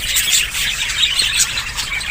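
A colony of budgerigars chatters and squawks continuously at close range, a busy overlapping mix of shrill chirps and squeaks with no talking.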